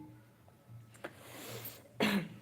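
A few short coughs and throat-clearing sounds after eating red chili, close by, with the strongest burst near the end.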